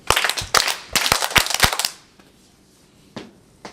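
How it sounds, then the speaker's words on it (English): Hands clapping in place of cymbals at a school drama club show, a quick burst of sharp, loud claps for about two seconds, then two scattered claps after a near-silent pause. "So we haven't got any cymbals, we'll just clap our hands."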